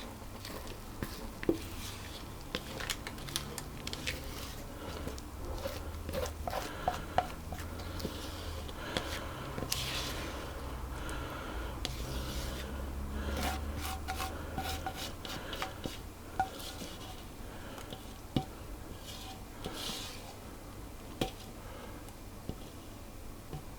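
Cake batter for a Paradise loaf cake scraped into a loaf tin, with repeated close rubbing and rasping strokes of a spatula against the tin, steady and fairly quiet with occasional small taps.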